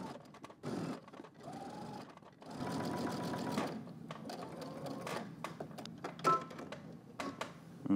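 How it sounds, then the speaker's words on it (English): A sewing machine understitches a facing seam on jeans, running in several short bursts and longer steady runs with pauses and small clicks between, close and fairly quiet. "So basically we're gonna stitch on the right side here of that seam with your seam allowance facing your facing as well."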